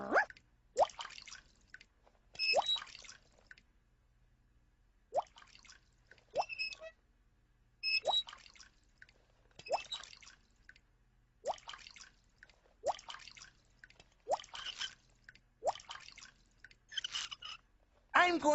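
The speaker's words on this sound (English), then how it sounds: "We have a leaky faucet." A cartoon leaky faucet drips in a slow, uneven series of bright water drops, each fairly close and distinct, separated by short silent gaps and mixed with spoken voices.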